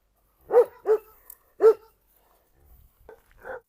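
Three sharp, loud barks in quick succession from a nearby Cane Corso or Kangal dog, followed by quieter whimpers and yips trailing off.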